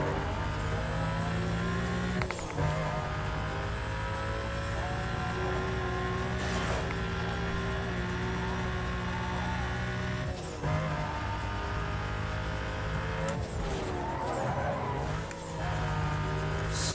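Cars race through a sprint event in Need for Speed: Most Wanted (2005), with loud engines droning and revving through gear changes over about seventeen seconds, plus occasional sharp transitions and tire noise. There is no talking.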